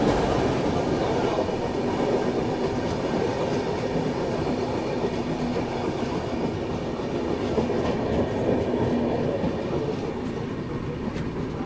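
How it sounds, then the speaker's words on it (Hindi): The Falaknuma Express thunders past at Balasore (Baleshwar) railway station, a loud, continuous rumble of wheels and carriages with a faint clatter running through it for the whole stretch. "बालेश्वर स्टेशन पे पहुंच गए और सामने से आ रही है फलकनुमा एक्सप्रेस"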